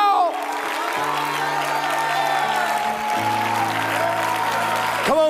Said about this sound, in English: stand to your feet and clap your hands and shout